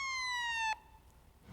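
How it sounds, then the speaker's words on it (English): A fire apparatus siren wails in a slowly falling tone inside an apparatus bay, then cuts off abruptly, leaving faint background noise. "To check the audible warning devices such as sirens and air horns"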